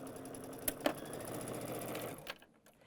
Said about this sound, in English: I'm just going to assembly line sew this one right behind it